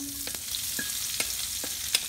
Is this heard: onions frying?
yes